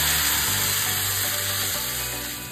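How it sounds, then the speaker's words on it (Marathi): Loud, continuous sizzling and crackling of spices tempering in hot oil for moong dal, steady throughout and close by. "हे जे मुगाचं वरण आपण शिजवून घेतलेलं याला मस्त तडका द्यायचा"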